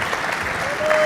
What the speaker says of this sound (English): Round of applause for Douglas and Pangburn Philosophy for putting this on.